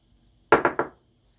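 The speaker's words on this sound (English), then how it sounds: "I use an X-Acto knife simply to trim up any of the slag here." An X-Acto knife trims plastic slag off a Ram quad headlight cap in three quick, close scraping cuts in a row, then silence.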